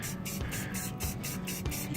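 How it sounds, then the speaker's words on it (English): An aerosol spray paint can hisses onto the glass of an aquarium background in quick, rhythmic short bursts, a steady close hiss pulsing several times each second. "You don't wanna hold it down and spray."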